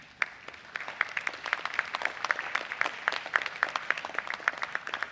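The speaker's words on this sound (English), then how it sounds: "give them a round of applause for all the support" A convocation audience applauds in a large hall, a dense run of steady clapping lasting several seconds at moderate distance.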